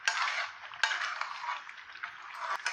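Jackfruit halwa being stirred in a pan: a spoon scraping and clinking against the metal vessel in steady strokes, with a few sharper knocks, close and fairly quiet, no talking.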